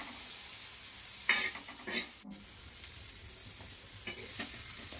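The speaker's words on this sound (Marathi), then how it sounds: "याला एक 5 मिनिटं आपण मीडियम गॅसवरती फ्राय करून घेऊया" A masala paste for sev bhaji sizzles steadily in a hot pan over medium heat while a spatula scrapes and stirs it in a few distinct strokes.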